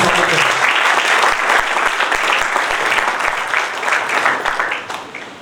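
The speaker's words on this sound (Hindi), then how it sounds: "एक बार जोरदार तालियां बजाते हैं उनका स्वागत है।" A seminar audience in Bikaner breaks into loud, full applause, a thick wash of many hands clapping that stays strong and then tapers off near the end.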